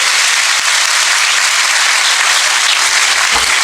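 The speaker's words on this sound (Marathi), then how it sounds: "जोरदार टाळ्या द्या त्याच्यासाठी" Loud, sustained applause from an audience at a Marathi comedy lecture, with dense clapping filling the whole stretch and no one speaking over it.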